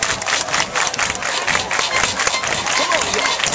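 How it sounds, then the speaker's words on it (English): Large crowd at a high school football game, clapping and cheering in a steady, dense wash of noise with shouting voices mixed in, loud and close throughout. "Everybody clap your hands."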